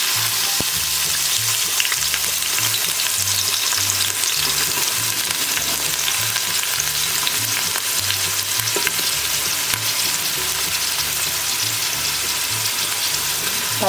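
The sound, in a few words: oil frying in pan for Nellore fish curry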